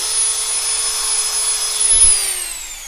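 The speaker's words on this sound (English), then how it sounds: "Don't keep the polishing wheel in the same place." A polishing wheel whines steadily and loudly as lock picks are polished against it, its tone holding level then dropping slightly near the end, with a brief thump.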